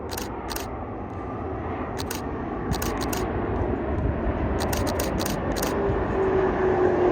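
A SkyWest ERJ-175 jet on short final to runway 30 left at San Jose International Airport gives off a steady, swelling engine roar that grows louder as it nears, with camera shutter clicks in rapid bursts over it.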